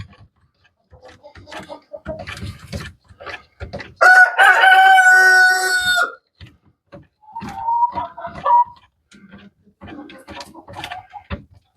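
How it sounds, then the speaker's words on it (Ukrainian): A loud rooster crows once nearby, long and drawn out, amid scattered clicks and clanks of tools being handled while replacing the muffler on a broken Skaut TV-904. "Бачите, півень."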